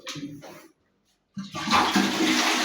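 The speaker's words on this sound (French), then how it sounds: "Oui, vas-y, tire la chasse." A toilet flushing in a house under renovation: a short clunk of the handle, a brief pause, then loud rushing water close by.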